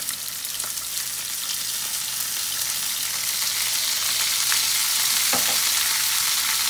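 Zucchini and other vegetables sizzle steadily in a hot pan as soy sauce goes in, a dense continuous hiss that swells slightly louder toward the end, with a few brief clinks of a utensil.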